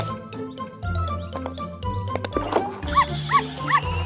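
A small cartoon puppy gives a few short, high yips and barks near the end, over background music and sound effects.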